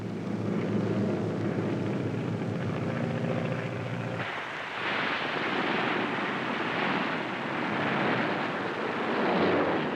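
A WWII bomber's engines drone in flight, a steady broad roar that shifts midway into a harsher, windier rush, loud and continuous with no talking.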